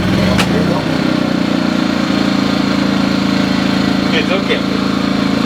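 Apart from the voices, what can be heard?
gas generator engine running after pull start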